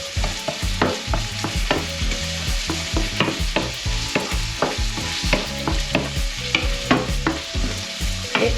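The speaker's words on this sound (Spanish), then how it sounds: "Esto lo vamos a estar removiendo durante un par de minutos para que las gambas se hagan" Chopped prawns and cayenne being stirred in a frying pan for garlic prawn croquettes, a bright steady sizzle with repeated rhythmic scrapes and knocks of a utensil against the pan.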